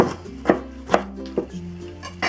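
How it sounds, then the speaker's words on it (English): Knife chopping through a bitter melon on a cutting board, trimming the top and end and halving it lengthwise: four crisp, close thuds spaced about half a second apart, with no talking. "Cut off the top and a bit of the end. Cut this down the middle."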